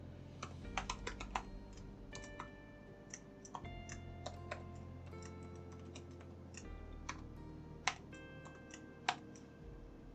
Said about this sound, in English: as I'm typing, it is being converted into URL format.